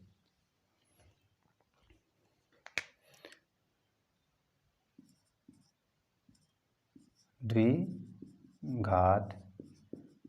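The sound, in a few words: writing on a board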